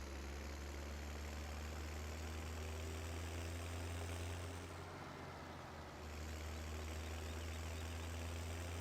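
A vehicle engine in the Farming Simulator 17 game on the Sibbershusum map drones steadily at a low idle-like hum, loud and continuous, with a brief dip midway and no talk over it.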